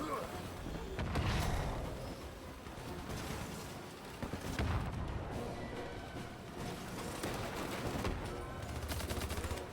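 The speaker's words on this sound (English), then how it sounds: "The pulse cannon takes some getting used to because you have to charge it up before firing." Repeated heavy booming blasts and crackling bursts of charged pulse cannon fire in the game Hypercharge: Unboxed, loud and dense, with a voice speaking underneath.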